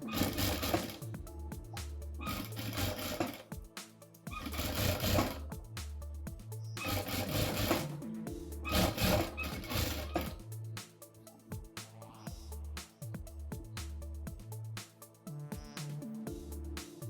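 Sewing machine stitching elastic shorts, running in repeated bursts of whirring mechanical stitching separated by short pauses, close and steady with a rhythmic motor hum.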